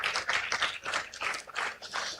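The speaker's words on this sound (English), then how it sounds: "Please give her a round of applause." Audience at a panel session of the Africa and Everywhere Festival 2026 applauding, a dense, steady wash of many hands clapping close by for the whole stretch.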